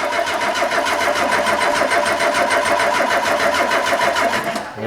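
A Renault 9 engine cranks on a booster pack, with a steady, loud, continuous mechanical drone that holds for several seconds and then fades at the end.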